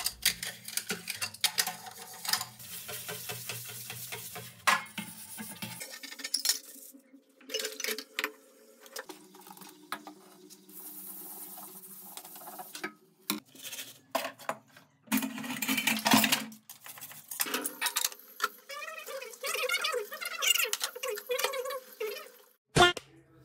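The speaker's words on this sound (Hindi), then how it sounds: "मैंने यहाँ से सीधा कुकर उठा के रगड़ना चालू करा चलो फटाफट फिर दोस्तों बर्तन धो लेते हैं" Dishes are washed by hand at home, a pressure cooker scrubbed along with other utensils, producing close, irregular clinks, clatters, scraping rubs and bursts of running water with brief quiet gaps.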